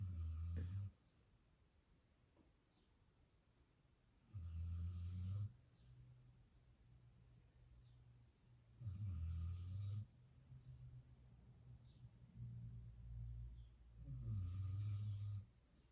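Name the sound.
dog snoring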